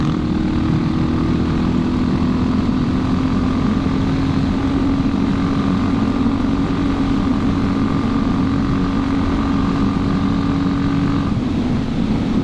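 A 2006 Suzuki DR650 supermoto fitted with a JD jet kit and open air box drones steadily and loud for the whole stretch, its engine note holding with a slight rise and no talk over it.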